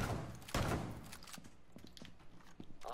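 Gunfire in Rainbow Six Siege shooting at breakable crates on the theme park map: a loud burst of shots early on, followed by scattered lighter impacts and thuds until the end.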